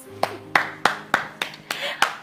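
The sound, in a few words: people clapping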